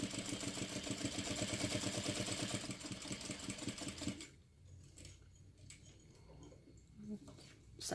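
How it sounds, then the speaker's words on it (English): A domestic sewing machine runs steadily for about four seconds, stitching a straight seam around a rectangle at 2.5 stitch length, then stops; quiet handling noises and faint movement follow. "we're going to sew all the way around that rectangle"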